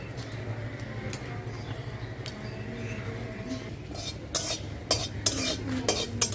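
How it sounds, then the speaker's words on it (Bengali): Dried chilies and bay leaves fry lightly in a pan for a jujube pickle, with a low crackle and scattered scraping stir sounds that sharpen and grow louder toward the end. "শুকনো মরিচ আর তেজপাতাটা হালকা ভাজে নিছি"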